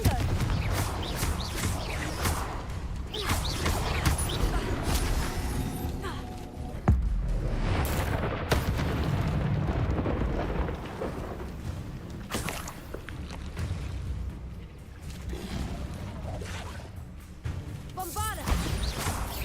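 Repeated Confringo spell blasts in Hogwarts Legacy, loud crashing bursts and thuds over dense game combat noise, with a player talking excitedly throughout.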